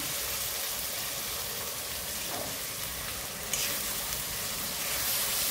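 Tomato puree fries in oil with garlic, giving a steady, close hiss of sizzling that holds evenly throughout, with a brief sharper crackle partway through and no talking.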